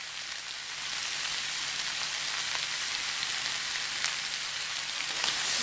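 Mixed vegetables for a low-oil Bengali five-vegetable curry sizzle steadily in a pan, a dense continuous hiss with faint crackles and no talking.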